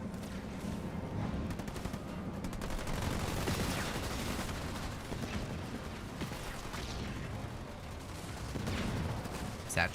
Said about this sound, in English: Satchel should detonate here.